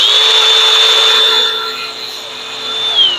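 A rotary wire brush scrubs cast aluminum clean before TIG welding, making a steady, high-pitched whir with a close grinding rasp that eases slightly midway, then swells again.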